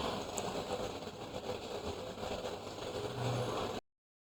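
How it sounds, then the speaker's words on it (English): A solar pump motor running after a dry-run fault is cleared, giving a steady, moderately faint broadband drone with a low hum that holds constant before cutting off abruptly. "the motor starts running"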